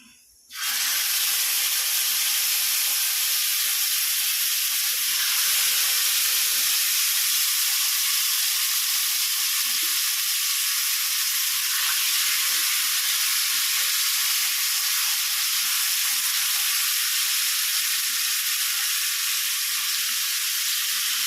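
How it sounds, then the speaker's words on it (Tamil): Fish frying in oil on a tawa gives a loud, steady hissing sizzle that starts abruptly and holds unbroken for about twenty seconds, close up with no talk. "இந்த மீனை தவால எண்ணெய் ஊற்றிக்கிறோம்"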